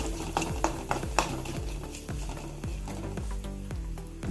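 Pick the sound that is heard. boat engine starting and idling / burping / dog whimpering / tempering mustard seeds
tempering mustard seeds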